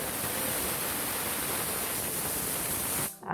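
A pressure cooker whistles while cooking spinach sambar, a loud steady rushing hiss of venting steam that holds evenly for about three seconds and then cuts off.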